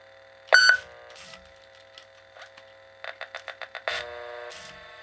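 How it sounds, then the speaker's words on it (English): A Walkman beeps: a sharp tone, a few soft clicks, then a quick run of six short beeps and another longer tone, close and clear. "this thing's gonna beep on you. That is not the tape, that is the Walkman."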